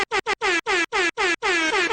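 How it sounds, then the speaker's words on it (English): A loud air horn sound effect, triggered from a stream deck button, blasts in a rapid series of short honks, then one longer blare, with no talking. "I apologize if this is what the air horn sounds like on stream."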